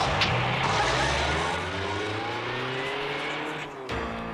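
A car is driven in a scene from the film Ishq, its engine a continuous close hum with rising and falling pitch, ending in a brief dip and a return of the motor noise.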